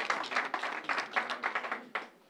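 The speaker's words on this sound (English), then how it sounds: "Can we give them a round of applause?" Audience applause in a Baptist church, Mount Nebo Baptist Church, rising in a short burst of scattered, uneven clapping that thins and fades within a couple of seconds.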